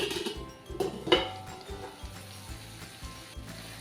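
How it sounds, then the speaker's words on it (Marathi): Metal spoon scraping and clinking against a covered pan while broccoli and potato cook, a few distinct knocks and scrapes over a low background hiss, close and moderately loud, no talking. "अधूनमधून आपण चमचा फिरवायचा आहे"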